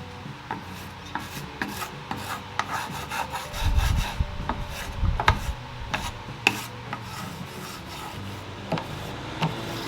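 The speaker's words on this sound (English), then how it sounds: "Paint scraper, and here we go." A hand paint scraper rasps old paint off a piece of furniture in repeated close strokes, with sharp scratchy bursts and a heavier scraping patch in the middle, no voices.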